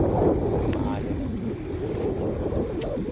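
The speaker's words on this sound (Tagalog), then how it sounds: "Saka nag-iba na yung ihip ng hangin, no? Naging amihan na. Maalo na." Northeast monsoon wind blowing across rough water at a fishing spot, a constant loud rushing roar with splashing underneath, heard close by.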